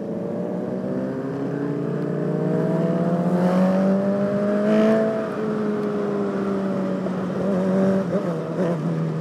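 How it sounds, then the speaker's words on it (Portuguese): A Honda Fan 125 motorcycle fitted with a Hornet engine runs on a city avenue, its engine droning steadily and loudly close by with gentle rises and falls in revs, no talk over it. "Os caras veem uma fanzinha com barulho de Hornet"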